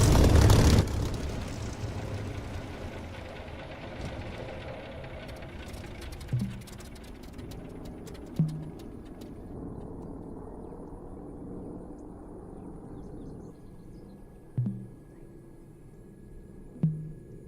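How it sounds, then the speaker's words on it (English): An aircraft engine in the DCS flight simulator shuts down after landing, a loud burst at the start dropping into a fading whine and low hum, with a few brief thumps and clicks along the way. "I'll cut the engine."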